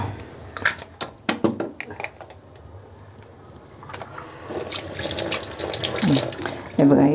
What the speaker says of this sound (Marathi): हा काढल्यानंतर आपण हे स्वच्छ धुवायचं इथलं भाग.